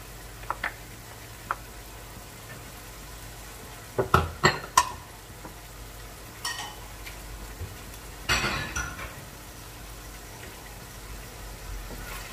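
Bicol Express with bagoong being stirred in a pan, soft scraping and a few sharp clanks of a spoon against metal in bursts over a quiet low background hum.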